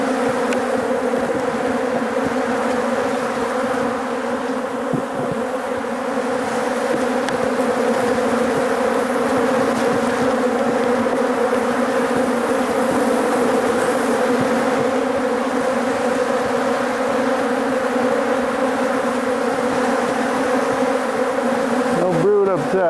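Dense, loud swarm of honey bees buzzing steadily and close during a hive inspection of crowded boxes, a continuous droning hum throughout with no voices.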